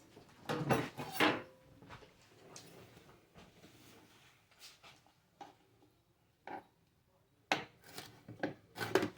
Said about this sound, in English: we're going to start cutting up these peppers that I'm going to put in the salmon